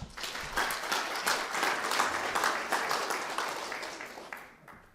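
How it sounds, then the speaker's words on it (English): An audience at an amateur radio conference gives warm applause to welcome a speaker, a dense steady wash of many hands clapping that holds for several seconds, then tapers off toward the end. "Please give him a warm applause,"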